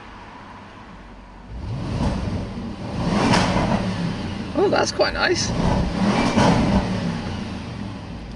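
Audi S8 Plus engine revving inside a tunnel, the note rising and echoing in a few loud throttle blips and sustained revs, with people briefly talking over it.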